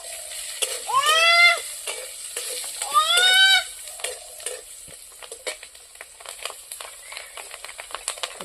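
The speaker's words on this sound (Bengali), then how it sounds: "কালো জিরে ফোড়ন দিলাম।" Black cumin, garlic and green chilies hitting hot oil: two loud bursts of sizzling crackle, then a lighter scattered spitting and popping as the spices fry alone.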